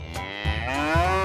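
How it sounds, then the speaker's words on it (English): A cow gives a single long, loud moo with a rising, wavering tone, close and clear with no talk over it. "Cow."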